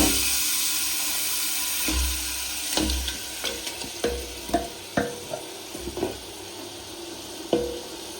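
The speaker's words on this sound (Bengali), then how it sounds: "এই মাংসটা আমি এবার এই মাটির হাঁড়িতে দিয়ে দেব" Marinated goat meat sizzles in hot oil inside a clay pot, a steady bright hiss broken by sharp clinks and scrapes as it is stirred, close up with no voices.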